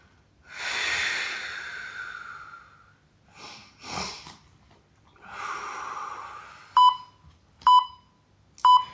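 Slow, deep breaths during a Pilates abs workout, a long drawn inhale and exhale followed by shorter breaths, then three sharp electronic beeps in a steady rhythm near the end.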